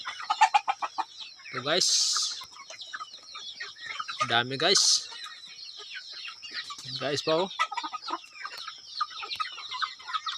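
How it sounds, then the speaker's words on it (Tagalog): Pet chickens at feeding time give repeated loud clucks and squawks close by, with a few sharp calls in clusters, while someone talks to the camera between them. "Pakain naman tayo sa ating alagang manok."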